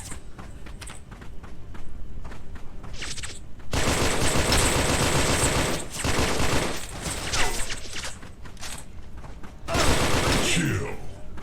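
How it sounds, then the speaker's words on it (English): Gunfire in the VR shooter Special Force VR: Infinity War, starting as scattered shots and breaking into sustained bursts of rapid automatic fire, broken by brief pauses and mixed with footsteps. "someone's shooting at me"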